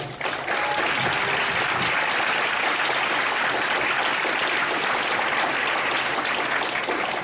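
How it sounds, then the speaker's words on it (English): A large audience at a university Three Minute Thesis competition claps steadily, a thick, unbroken roar of applause that holds at full strength from start to finish. "let's first give them all a round of applause."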